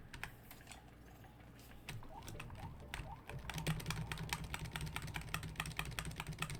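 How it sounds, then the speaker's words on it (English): Computer keyboard keys mashed rapidly and repeatedly while playing Spyro Reignited, a fast irregular clatter of close clicks that grows denser and louder halfway through. "jamming the keyboard thing"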